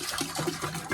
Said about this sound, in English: Looks just like water being poured out, doesn't it? But there's sap in there. And I pour it down into this big barrel.